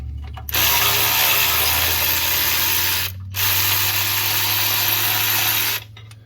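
Power tool or ratchet spinning out the lower starter bolts on a GMC Acadia, two long steady whirring runs separated by a brief pause, close and loud with no talking.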